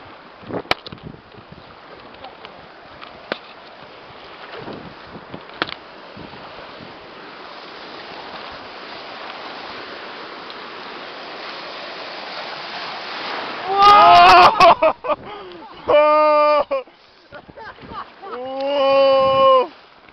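An inflatable raft runs river rapids, a steady roar of rushing water building to louder bursts of splashing near the end, with voices shouting over the water.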